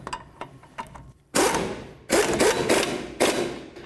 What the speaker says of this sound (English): Now we're just going to snug up that lower ball joint nut.